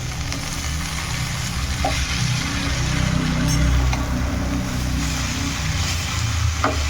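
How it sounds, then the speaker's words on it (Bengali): Dhenki shak, fiddlehead fern greens, being stirred in a pan: a continuous low sizzle with soft scraping and a few sharp utensil clicks, fairly close and steady, with no talking. "এই ঢেঁকি শাকগুলো দিয়ে এবার একটু হালকা করে একটু নাড়িয়ে চাড়িয়ে দেবো"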